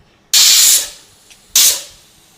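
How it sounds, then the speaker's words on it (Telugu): A pressure cooker of jowar (sorghum) porridge lets out two loud, sharp bursts of hissing steam from its whistle, each one cutting off abruptly and fading, with a short quiet gap between them. "ఇప్పుడు 2 విజిల్స్ అయిపోయింది"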